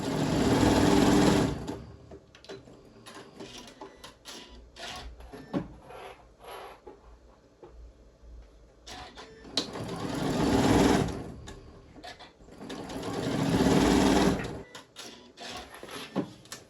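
A sewing machine stitches the fabric sides of an Easter basket, running in three loud, steady whirring bursts with quieter pauses and handling between them.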